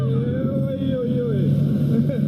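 A steady electric motorboat whine and low hum, three people aboard at 130 amps, run throughout, with wind and water noise and indistinct voices underneath.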